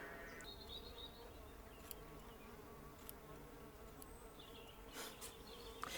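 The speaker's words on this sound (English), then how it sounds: "If you're wondering about the noise of the bees, it's because there are bees." Bees buzz continuously around holes in a wall, a steady droning hum close by with occasional louder passes and faint clicks.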